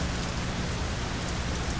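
Steady, dense rainfall in the horror game Fatal Frame: Maiden of Black Water, a constant hiss of drops with a low rumbling undertone and no pauses, fairly loud and alone.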